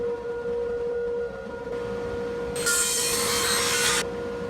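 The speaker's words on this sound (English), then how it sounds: "separate the two halves on the table saw" Table saw cutting apart the two halves of a wooden keepsake box, a steady motor hum under a loud, bright cut lasting over a second before the blade spins on alone.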